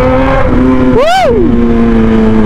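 A motorcycle engine idles loudly and close, then revs sharply up and back down once in a quick swell before settling to a steady idle, with a faint voice underneath.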